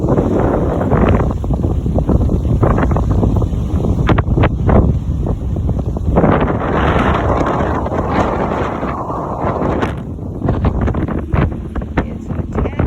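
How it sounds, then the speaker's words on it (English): Strong wind buffets the microphone outdoors in Truth or Consequences, New Mexico, a loud continuous rumbling roar with gusty surges throughout. "It's a tad bit windy out here today"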